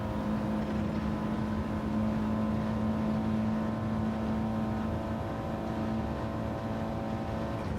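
A steady race car engine drone from Gran Turismo 7, an Audi TT Cup Gr.4, hums throughout, constant and unvarying like a car engine at speed, with no voices.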